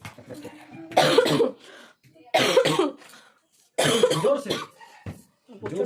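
Three harsh, fairly loud coughing bursts from a person at home, spaced a second or so apart, with quieter room noise in the gaps and a faint voice between them.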